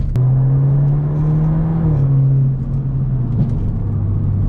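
Tuned BMW 328i F30 pulling at half throttle, a loud, steady engine drone with a boosted rumble that holds for a couple of seconds, then eases slightly in pitch and level.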